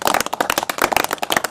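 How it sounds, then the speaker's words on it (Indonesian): Dense, brisk clapping from an audience at a Christian youth community gathering, many hands beating fast and close together for a short burst with no voices over it. "Dan ini saya rasa patut dapat aplaus."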